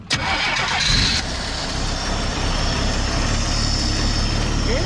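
An old car engine, either a 1999 Pontiac Firebird or a 1970 Chevrolet Nova, cranks briefly and catches for its first start in years, then settles into a loud, steady rough idle close by with no talk.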